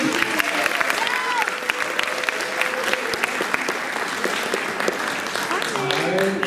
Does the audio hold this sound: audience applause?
yes